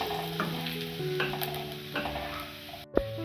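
Chopped garlic frying in hot oil, a steady close sizzle with scattered crackles and light stirring scrapes, plus a low hum running underneath and a sharp clack near the end.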